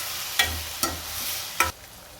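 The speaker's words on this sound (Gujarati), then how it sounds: "લીલી ડુંગળી નાખીશું કાપેલી. આ બધાને મિક્સ કરી થોડી વાર ચડવા દઈશું" Chopped green onion and vegetables being stirred in a pan over heat, with a steady sizzle broken by three sharp scrapes of a spoon against the pan, close and fairly loud.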